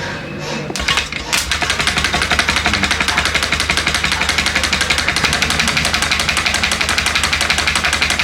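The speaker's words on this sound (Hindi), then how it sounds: "अभी हम इस मोटर को चला के इसके भी एम्पेयर चेक करते हैं।" A DC pump motor with a bush-type design runs during an ampere check, starting after a brief pause and then holding a loud, steady, fast rattling drone.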